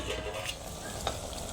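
Country chicken and broad bean curry cooking in a pan, a soft steady sizzle and bubbling with a few faint stirring scrapes, close and quiet with no voices.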